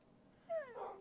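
A dog in the Minecraft video game lets out a short, close whimpering whine, a rising yelp followed by a higher wavering cry, heard alone with no talk.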